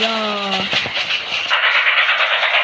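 A train in a video game rolls along with a broad, steady hissing rumble, following a brief voice-like tonal sound at the start.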